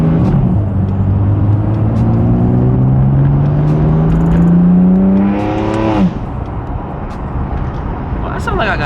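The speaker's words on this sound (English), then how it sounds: "that sounds like I got an exhaust leak" A BMW M4 engine with front-mount intakes and an exhaust leak revs loudly up close, its pitch climbing steadily before dropping off, with a rough, raspy exhaust tone throughout and talking mixed in.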